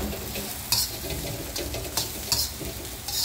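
Cantonese fried rice with pork and scallions stir-fried in a wok gives a continuous loud sizzle and hiss, broken by a few stirring scrapes and tosses, near and without speech.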